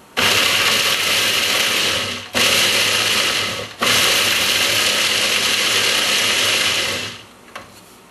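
A machine dicing a bar of soap into fine crumbles for homemade H.E. laundry detergent, a steady loud grinding whir running in three long bursts with brief pauses between, no talking.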